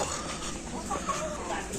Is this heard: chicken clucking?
yes